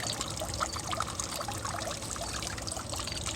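Water splashing and trickling into an outdoor fish pond, a steady close pour with small splashes throughout, no talking.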